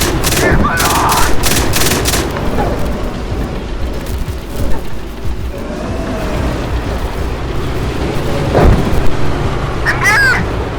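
Bursts of machine gun fire from a German Bundeswehr armoured vehicle, loud rapid volleys early on then scattered shots and a heavy boom later, with shouted crew commands heard throughout.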